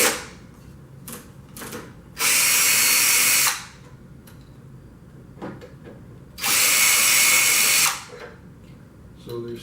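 A power drill backs out the small black-headed fasteners holding the end cap on a Creation ProCut CR series cutter, two loud steady whirring bursts of about a second and a half each, separated by quieter handling noise and faint background.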